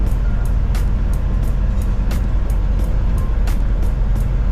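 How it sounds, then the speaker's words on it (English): A semi truck descends a steep mountain downgrade on its engine brake, a loud steady low drone with road roar and faint periodic clicks throughout. "Engine brakes is doing what it's supposed to do."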